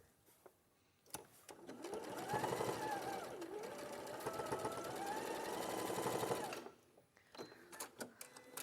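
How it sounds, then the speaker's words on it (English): Sewing machine stitching fabric pieces together, a steady close whirring hum lasting several seconds with a soft motor whine, starting and stopping with faint clicks. "And sew those together"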